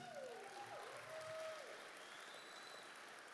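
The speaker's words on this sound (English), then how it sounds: "give yourself a round of applause, please" Audience applause fills a hall at an annual gun-themed awards ceremony: a steady, dense wash of many hands clapping at once, sustained evenly throughout at a moderate distance with no pauses.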